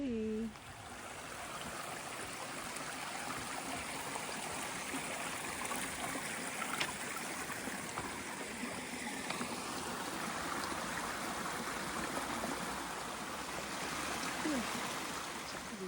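A river runs beside a trail on the Appalachian Trail, giving a steady, faint rushing flow that holds throughout with no talking.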